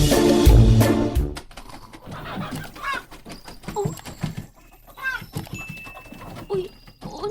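Chickens cluck inside a farm coop: a series of short, clipped, moderately near clucks scattered irregularly after a brief loud thump at the start.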